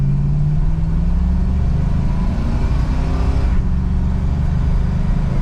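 1970 Ford Torino with a 4-barrel carburetor accelerating from a near standstill, a loud close engine roar rising in pitch steadily with no talk.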